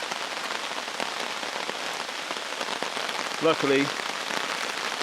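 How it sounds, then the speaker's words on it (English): Steady rain falls outdoors on a bushcraft camp set up under a tarp basher with a small one-man mosquito-dome tent, a dense even hiss of drops on surfaces throughout, with a brief burst of a voice partway through. "we're out in the rain having some fun."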